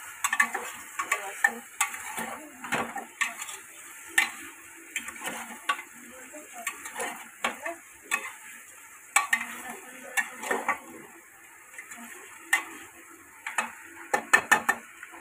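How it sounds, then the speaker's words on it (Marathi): Pieces of mutton are stirred in a metal pan, giving close, irregular scraping and clinking taps of the spoon against the pan that repeat through the whole stretch over a quiet background. "मटण टाकायचं। हे पण आपण हलवून घेऊया।"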